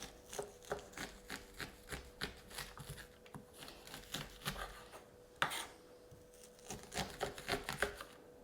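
A knife slicing corn kernels off the cob for sweetcorn fritters, a run of quick crisp cutting strokes in an uneven rhythm, close and fairly quiet, with one sharper knock partway through.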